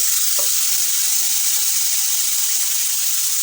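Spice paste sizzles steadily in a hot pan after a splash of a little water, a continuous loud hiss with a brief clink near the start, no talking.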